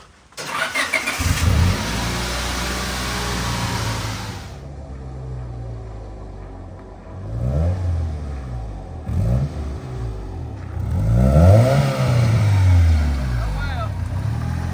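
An enduro race car engine cranks and fires close by, then revs repeatedly in rising and falling surges with rough idling in between, while people talk over it.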